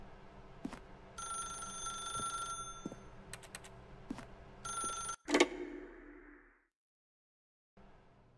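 A telephone rings in a video game with repeated electronic bursts at a steady rhythm, fairly faint. A sharp clatter follows, then a short silence and a faint tone at the end.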